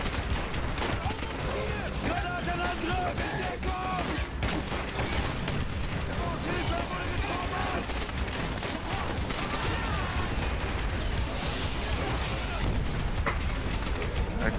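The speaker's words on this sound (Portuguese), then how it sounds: "Aqui é uma explosão atrás de explosão" Dense battlefield audio from the video game Call of Duty: World at War, with explosions coming one after another and constant gunfire and machine-gun bursts filling the scene at high volume, while a voice talks briefly underneath.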